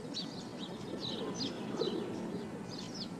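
Juvenile sparrows give short, high chirping calls in loose repeated bursts through steady low background noise, moderately close and fairly faint.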